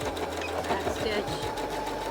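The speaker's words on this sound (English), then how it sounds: "Again, back stitch." A sewing machine back-stitches the seam of a pillowcase, running steadily and close up for the full two seconds with a faint whirring hum. A person talks quietly over it.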